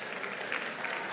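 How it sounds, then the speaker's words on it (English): Brief burst of audience applause, a dense patter of many hands clapping at moderate level with no voices over it. "Those are all the CNN people clapping right now."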